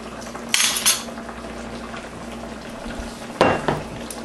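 A spoon scrapes and clinks twice against a pan while red snapper sarciado gravy is stirred, two short bright bursts over a quiet low hum, with no talking.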